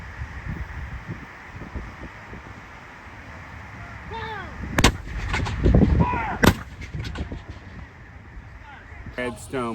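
Cannon firing during an Artillery Day demonstration at Monocacy National Battlefield: a loud, sharp outdoor blast with a heavy boom and rolling echo amid wind noise, a second report following, with people talking before and after.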